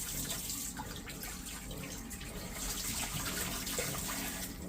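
Liquid pours into a toilet tank during house winterization, a steady, soft, continuous splashing trickle heard close up with no voices.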